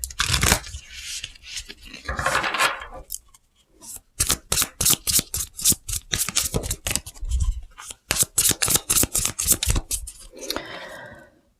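Tarot cards shuffled and drawn by hand, a dense run of quick, crisp riffling and slapping bursts, close and loud, with brief pauses between flurries and no talking.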